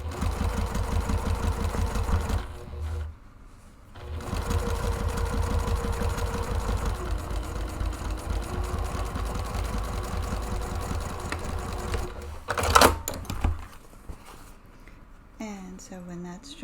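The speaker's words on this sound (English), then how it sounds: "I am going to stitch down that right hand edge and join those two pieces of material." A sewing machine runs steadily, joining two fabric panels of an autumn tote along a 5/8-inch seam, a continuous mechanical hum with a short pause near the start and a stop toward the end, then brief handling sounds.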